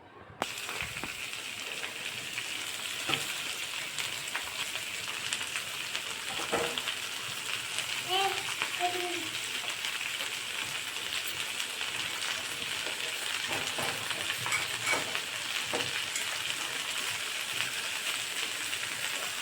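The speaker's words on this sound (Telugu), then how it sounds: "ఇప్పుడు క్యాబేజీ వేసుకుందాం" Cabbage frying in a hot pan for cabbage tomato pachadi gives a steady, even sizzling hiss that runs unbroken throughout, with a couple of faint clinks in the middle.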